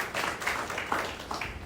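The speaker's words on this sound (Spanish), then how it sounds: "Dale un aplauso al Señor." A church congregation applauds during a Spanish-language sermon, with steady broadband clapping and a few louder swells from voices or cheers rising over it.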